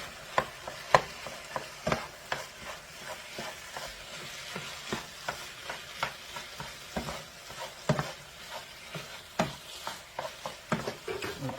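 Two cups of rice tipped into a hot pan and stirred, with a spoon scraping in irregular strokes over a soft continuous sizzle, close and alone without talk.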